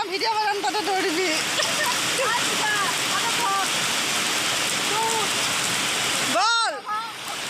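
Heavy rain pours down steadily around a school, a dense hiss that fills the whole stretch while voices talk over it, with a short rising-and-falling whistle-like call near the end.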